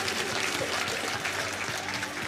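A church congregation applauds a youth choreography at a Christmas evangelical service in Ransart, with steady, dense clapping filling the room for a couple of seconds.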